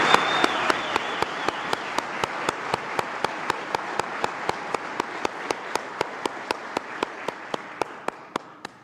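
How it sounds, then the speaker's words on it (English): Audience applause at a Columbus Division of Police recruit class graduation, honoring the police pipes and drums band: a steady wash of clapping with sharp, evenly spaced beats running through it, fading slightly toward the end. "Round of applause for the Columbus Division of Police Fire and Pipes and Drums."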